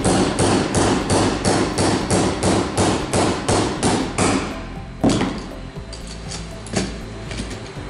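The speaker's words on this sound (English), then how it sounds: "Take a hammer and a drip pin and just simply pound the pin out." Rapid metallic hammer blows on a drift pin ring out as a pin is pounded out of a conveyor chain, about a dozen close strikes, then a few slower, scattered taps.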